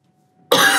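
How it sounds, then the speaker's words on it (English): A single loud, close cough bursts out abruptly after a brief silence. "you cough a lot"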